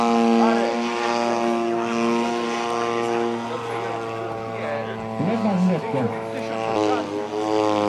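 A Super Decathlon model airplane runs its engine and propeller at a model aircraft picnic in Nowy Targ, a loud buzzing drone with shifting pitch, while people talk over it.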